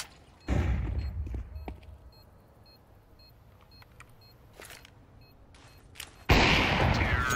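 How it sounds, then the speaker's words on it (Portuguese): A flashbang grenade in Counter-Strike 2 goes off as a loud thud, followed by scattered clicks and small sounds, then a harsh, sustained bright burst near the end. "Throwing flashbang."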